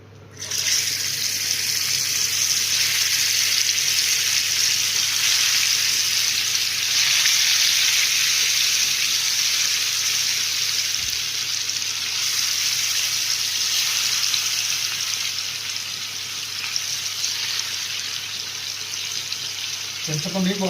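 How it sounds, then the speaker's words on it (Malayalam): Fish frying in hot oil for a Kerala-style pothichoru banana-leaf meal, giving a loud, steady sizzle that holds unbroken for about twenty seconds over a faint low hum. "ഇനി എണ്ണ ചൂടായി, നമുക്കിനി മീൻ പെറുക്കിയിടാവേ."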